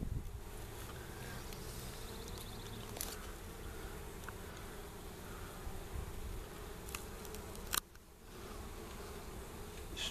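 Steady buzzing of many honey bees at a swarmed hive during inspection fills the air, a dense continuous hum with occasional sharper buzzes passing close by.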